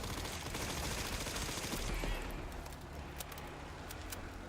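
Rapid machine gun fire in the video game Resident Evil Requiem forms a dense, loud burst of shots that eases after about two seconds, leaving scattered clicks and quieter game sound.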